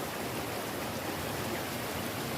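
Stream of water at Tai Tam Reservoir falls in Hong Kong, a steady broadband rush of flowing water, even and continuous at moderate distance with no voices.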